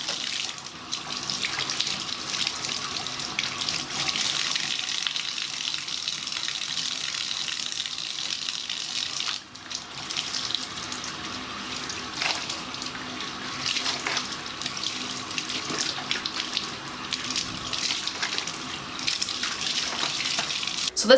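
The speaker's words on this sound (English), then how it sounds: "right now I'm just gonna be rinsing again like I did the last time, just like pulling each side and rinsing" Cloth diapers are rinsed by hand under a running tap, a steady loud stream of water splashing into a sink with brief dips as the fabric is pulled and moved through the flow.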